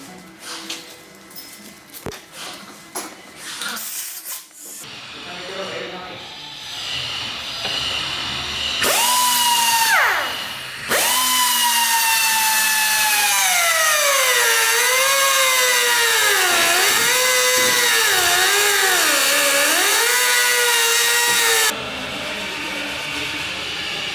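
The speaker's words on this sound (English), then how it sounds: "Okay, so now that I got the size, then I'm gonna start cutting." A power tool cuts a sheet of aluminum for a car interior insert in a garage, starting with irregular bursts, then a loud sustained whine that rises and falls in pitch for several seconds before stopping abruptly.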